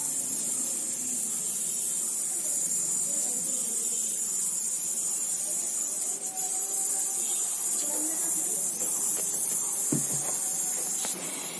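Mustard oil hissing and sizzling in a hot wok (kerahi) while cooking egg curry, a loud steady broadband hiss that holds evenly throughout, close to the microphone.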